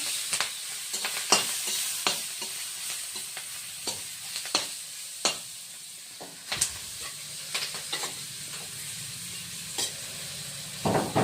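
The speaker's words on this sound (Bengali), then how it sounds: "এই যে আমি আলু ভাজতেছি, পেঁয়াজ মরিচ দিতেছি।" Potatoes frying with onion and chili in oil, a continuous hissing sizzle broken by frequent clinks and scrapes of a utensil stirring in the pan, close.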